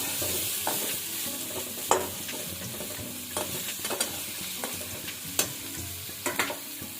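Potatoes with turmeric fry in a pan, a steady sizzle running beneath repeated sharp scrapes and clinks of stirring, loud and close, with no talk.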